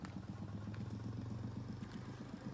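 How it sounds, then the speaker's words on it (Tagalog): A boat's LC engine idles at low speed, a steady close chugging throb with regular rapid knocking pulses that continues evenly throughout. "makina ni Lolo Tagi, low speed yan ang LC oh."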